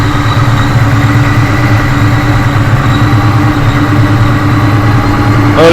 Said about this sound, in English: the motor is smooth